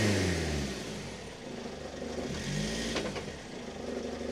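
A truck bogged in mud up to its chassis in bad weather near Kalamata, Greece, revs its engine in rising and falling surges as the clutch is worked, close and steady with a brief rattle partway through.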